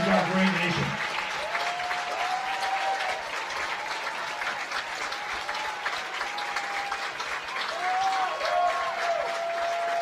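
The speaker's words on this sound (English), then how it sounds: "Fans, how about a big round of applause for the U.S. Army and our servicemen and women" Crowd of fans at a high school football game, South Broward versus Western, applauding steadily at a distance for a sustained stretch, while a public-address announcer's voice carries over the clapping.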